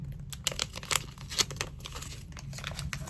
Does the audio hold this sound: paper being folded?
yes